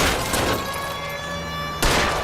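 During a car chase in L.A. Noire, a loud gunshot cracks at the start and another near the end, with a steady engine drone and road noise running between them.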